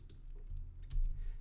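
Computer keyboard typing with soft clustered key clicks in quick irregular bursts, close and fairly quiet, with no talking.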